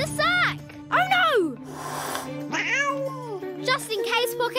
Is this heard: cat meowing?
yes